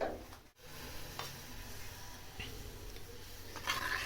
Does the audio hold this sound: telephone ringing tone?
no